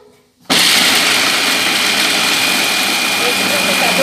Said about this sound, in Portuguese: Esse liquidificador tem duas rotações.